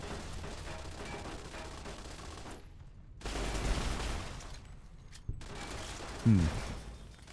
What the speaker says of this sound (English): Oh, there's turrets.